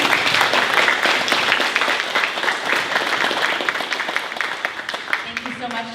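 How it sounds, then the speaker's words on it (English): A room full of people applauds a keynote speaker at a West Covina community active shooter survival training, dense steady clapping that holds strong throughout, with a voice briefly audible near the end. "let's give a round of applause to our keynote speaker today"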